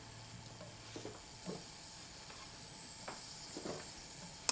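A stick of unsalted butter melting in a pan still greasy from earlier cooking, giving a faint, steady sizzle with occasional soft pops and stirring taps.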